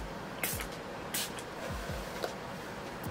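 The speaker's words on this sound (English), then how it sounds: "I'm going to go in with the Hair Proud Gloss Hair Heat Activated Smoothing Shine Spray." Hair Proud Gloss Hair heat activated smoothing shine spray misted onto hair in three brief hissing bursts, spaced about a second apart, over a steady background hum.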